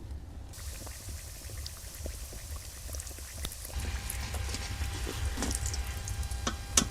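Singara frying in lightly warm oil over low heat give a steady, close sizzle dotted with small crackles and pops, growing louder and busier partway through.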